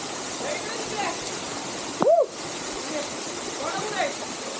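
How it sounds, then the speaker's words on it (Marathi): A monsoon waterfall in Sandhan Valley roars as a steady broadband rush from start to finish, with a brief voice breaking in over it. "धबधबा है धबधबा"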